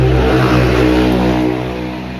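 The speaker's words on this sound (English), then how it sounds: "It's the noise of motorcycle early in the morning." An early-morning motorcycle engine revs loudly and close by, holding a steady, throaty drone with strong low harmonics before easing off slightly at the end, with no voices over it.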